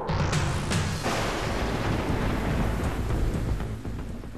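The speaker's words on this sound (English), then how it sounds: "we begin this evening with lightning, rain, and blowing dust. Another monsoon storm moving over a part of the valley tonight" Monsoon storm over the Mesa, Arizona valley, a roaring wash of rain and gusting wind with low rumbling thunder, loud and continuous, easing slightly near the end, with no voices.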